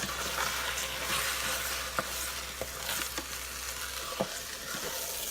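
Plain medium-grain rice is stirred in a pan over a soft steady frying hiss, with several distinct scrapes and knocks of a utensil against the pan, close and moderately quiet, no speech.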